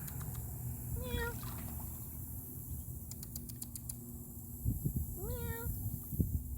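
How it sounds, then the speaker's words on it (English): Two meows a few seconds apart, with scattered clicks and light tapping between them and soft background noise. "Come here, kitty cat."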